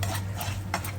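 Cashews sautéed in a pan for butterscotch pudding, with a spoon scraping and stirring in a few soft strokes over a low steady hum, close by and fairly quiet.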